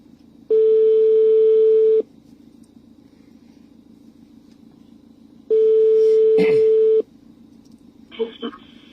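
A phone placing a call: two long steady ringback tones separated by silence, close and loud, with a brief burst of handling noise and faint murmur near the end.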